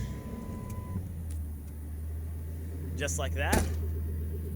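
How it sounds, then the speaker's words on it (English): Pickup truck engine hums at a steady low idle after a fuel pump replacement, with a brief spoken phrase over the running motor. "my truck is now once again running"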